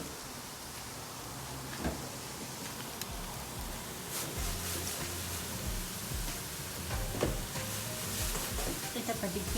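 Onions frying and browning in a pan for home-style chicken biryani, a steady close sizzle with occasional stirring scrapes and clinks throughout.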